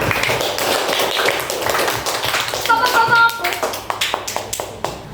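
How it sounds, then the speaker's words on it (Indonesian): A class of young pupils in an Indonesian third-grade lesson claps for a group that has just presented, a scattered patter of hands thinning into a few separate claps near the end, with a brief whistle-like tone partway through. "tepuk tangannya untuk kelompok 2"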